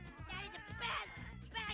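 Cartoon cats yowl and caterwaul in a South Park episode, a run of drawn-out, wavering meows overlapping one another, loud and close throughout with no talk over them.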